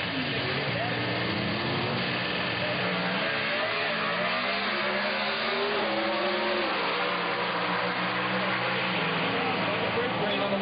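A dragster in NHRA Competition Eliminator racing at the 1997 US Nationals, a loud sustained engine roar with shifting pitch as it runs down the strip, with announcer commentary over it.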